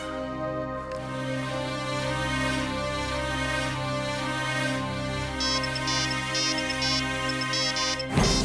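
A phone ringtone plays steadily while a call is placed, a repeating melodic tone pattern, fairly loud and continuous, with a brief clunk at the end.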